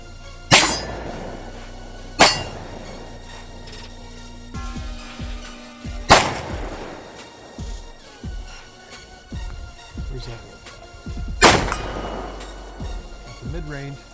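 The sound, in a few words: pistol gunshots at a shooting range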